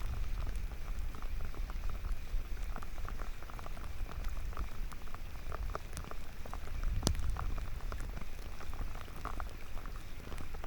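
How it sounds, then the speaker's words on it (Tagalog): Steady rain pours down in a dense, continuous hiss with occasional louder drops pattering close by. "Umuulan na talaga."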